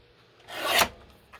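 A single rasping stroke of a blade cutting an eighth of an inch off a piece of card for an inlaid flower journal card, rising and fading over about half a second in a quiet room.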